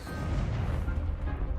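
A rumbling, booming Accio spell cast in the Hogwarts Legacy video game, one sustained burst of magical force that stays loud and dense throughout.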